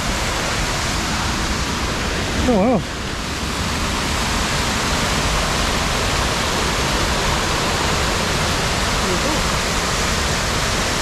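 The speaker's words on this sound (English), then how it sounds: "off to find a waterfall" A waterfall rushes near Lake Manapouri's South Arm, a steady, loud broadband roar filling the whole stretch, with a brief exclamation from a voice near the start.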